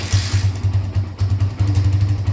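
A Barako 2 motorcycle engine, a 2025 model, runs right after starting with a close, pulsing low putter and a brief dip in the middle before it settles back into an even idle.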